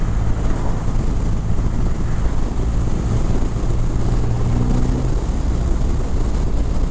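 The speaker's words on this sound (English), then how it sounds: "I love the exhaust on this bike from the factory. It's just got the, you let off that nice burble." A 2023 Triumph Rocket 3 GT with its 2500 cc engine and factory exhaust, riding at speed: a low, steady engine rumble heavily buried under loud, constant wind roar.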